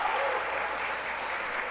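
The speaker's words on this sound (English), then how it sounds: "Crowd loving that one." A crowd at a bocce match applauding a throw, steady sustained clapping from many hands throughout.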